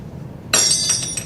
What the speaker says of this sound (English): Glass break.